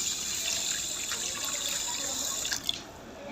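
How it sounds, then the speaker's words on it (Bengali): Rice being washed in water for chicken biryani, a continuous close swishing and trickling with small drips and a soft splash near the end, no voices. "চাল এটা একটু ভালো করে ধুয়ে এক ঘন্টার মতো ভিজিয়ে রাখবো"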